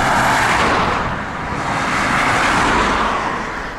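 A car passes on a quiet rural road between Wick and John o' Groats, a loud broad whooshing roar that swells, dips and builds again, heard close over wind noise with no talk.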